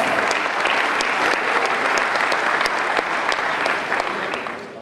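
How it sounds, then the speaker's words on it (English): Sustained, dense applause from a large audience at a formal evening event with a Lagos governor, clapping steadily and loudly throughout before tapering slightly at the end. "Shall we please give him and yourselves a resounding round of applause"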